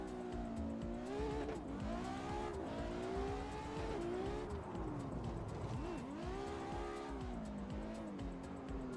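A Ferrari 599 GTB in a racing video game, engine revving and dipping through gears while tires squeal in a sliding drift entry, continuous and loud throughout.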